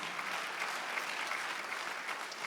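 A church congregation at a Sunday worship service claps together, a dense, even wash of applause that continues throughout without pause or voices.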